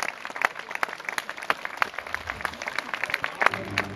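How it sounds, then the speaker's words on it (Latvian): An outdoor audience at a closing concert of the Three-Star Games applauds, a scattered but sustained clapping with uneven peaks throughout. "Aplausi."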